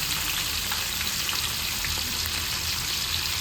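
Curry leaves and dried red chillies sautéing in hot oil in a pan for chicken curry, a steady close crackling sizzle with fine popping throughout and no talking.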